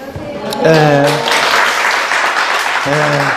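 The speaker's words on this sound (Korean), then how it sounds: "힘찬 박수 소리가" Hearty applause from a class audience at a Korean real estate agent exam lecture fills the short clip as a dense, steady clatter, with a voice speaking over it at the start and again near the end.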